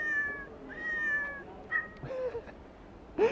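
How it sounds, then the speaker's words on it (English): A Pentax MX-1 compact camera's electronic self-timer and shutter sounds mew like a cat: several short synthetic meows, a couple of longer falling ones and quick chirps, close and fairly quiet against light background noise. "shutter sounds can be programmed to mew like a cat"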